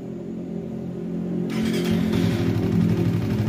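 A Suzuki FU 150 fuel-injected motorcycle with a bored-up engine and Apitech ECU, cold after five days unused, cranks and fires up, then settles into a steady, loud, close idle with a rough rumbling pulse.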